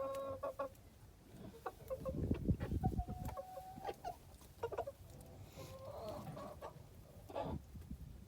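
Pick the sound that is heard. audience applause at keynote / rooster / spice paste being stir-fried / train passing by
rooster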